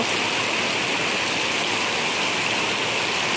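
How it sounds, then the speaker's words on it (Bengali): Heavy rain pours down steadily in Malaysia, a dense, loud, unbroken hiss of falling water with no pauses and no voices. "আজকের থেকে কালকে রাত্রের থেকে এমন পরিমাণ বৃষ্টি হচ্ছে আর কি"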